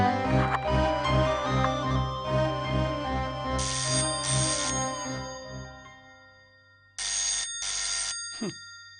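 A telephone rings in a household scene from a Tamil TV serial, with repeated electronic bell bursts cutting through background music, then two louder isolated rings near the end.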